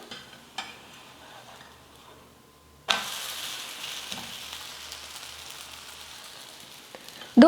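A wheat flour dosa sizzles on a hot pan just after being flipped. A quiet scrape comes first, then a sudden burst of steady frying hiss, close by, with a clatter at the very end.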